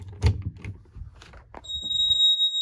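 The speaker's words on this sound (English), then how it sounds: "And the buzzer's still loud," A Fire-Lite ES-50X fire alarm panel buzzer sounds on power-up, a piercing continuous high-pitched tone starting partway through after some handling noise and lasting to the end, loud and close.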